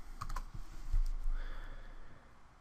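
Keystrokes on a computer keyboard as LaTeX code is typed, a quick, close, steady run of clicks heard alone with no talk.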